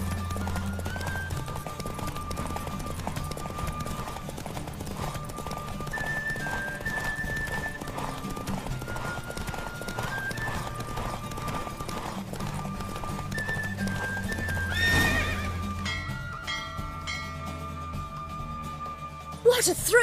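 A horse gallops with steady clip-clop hoofbeats during a race in The Witcher 3, with a sharp neigh near the end over continuous game music and effects.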